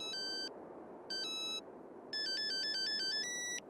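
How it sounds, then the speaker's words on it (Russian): A mobile phone plays a ringtone melody from a Russian film: bright electronic beeping notes in three bursts, two short phrases and then a longer one, over a faint background hiss. "Мелодия из фильма, которая одновременно являлась звуковым сигналом на мобильнике главных героев"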